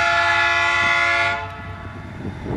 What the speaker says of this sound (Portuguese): trem acelerando em Rolândia.